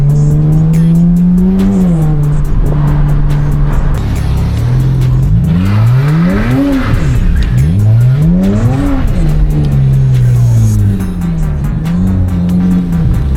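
Car drifting on a public street, its engine revving hard in repeated rising and falling surges with tire squeal and skidding, loud and close throughout.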